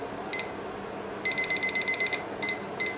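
A kitchen timer beeps while it is being set for a pork shoulder roast: one short beep, then a quick run of about eight clipped electronic beeps, followed by two more single beeps, close and clear over faint room noise.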